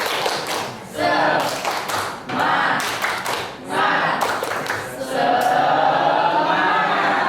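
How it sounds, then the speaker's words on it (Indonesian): A class of students performs a rhythmic 'tepuk semangat' clapping cheer in a classroom, with sharp, loud bursts of claps in a set pattern broken by short pauses, and a few voices chanting along. "Tepuk semangat."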